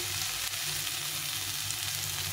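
Bitter gourd, onion and potato fry in hot oil with turmeric and salt for a fish curry, a close, steady, dense sizzle throughout.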